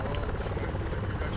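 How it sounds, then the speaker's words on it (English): Helicopter in the video game Arma 3, a loud steady rotor and engine drone filling the whole moment, continuous and close, with voices talking over it. "Everyone, out of the helicopter."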